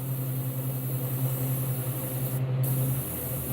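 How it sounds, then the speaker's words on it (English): An airbrush hisses steadily as it sprays white paint over black on a realistic largemouth bass piece. The hiss is loud and continuous, close up, with a low hum beneath it and no talking. "I'm spraying over the black"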